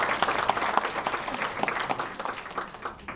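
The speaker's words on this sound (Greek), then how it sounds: "Και εμείς ευχαριστούμε την κυρία Βανελάκη για το θερμό χειροκρότημα" Audience applause at an evening literary event, a steady dense patter of many hands clapping at moderate distance for several seconds.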